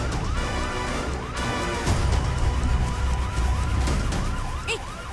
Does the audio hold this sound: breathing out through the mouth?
no